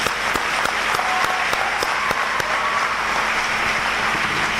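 Dense, steady applause from an audience at a live motivational speech, many hands clapping together at close range for the whole stretch with no talk over it.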